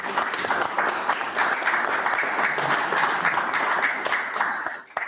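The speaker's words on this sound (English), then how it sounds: "Can we give Bob a round of applause?" At a town assembly, an audience gives a warm round of applause for Bob: steady, close, full clapping from a room of people sustained for about five seconds before tapering off.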